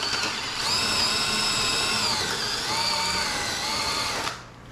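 A power drill whines steadily on the fasteners of a Mercedes W140 front bumper cover, its motor pitch shifting slightly mid-run before stopping abruptly near the end; close and loud, with no talking.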